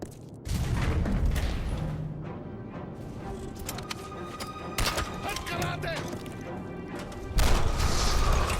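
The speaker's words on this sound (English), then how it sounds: "I dropped that grenade pretty much right beside him and it didn't take him out." A grenade explosion in the video game Turning Point, heard as sharp crashing bursts and booms amid ongoing gunfire and game noise, loud and close.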